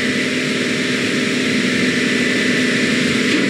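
A DC-3 propliner takes off in Microsoft Flight Simulator, a loud, constant piston engine drone with a steady low hum and droning tone, running evenly throughout with no speech.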